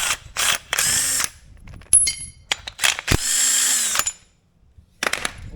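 Power tool whirring in bursts as bolts are backed out of a backhoe axle, several short and longer runs of ratcheting drill noise with clicks and pauses between, close and fairly loud.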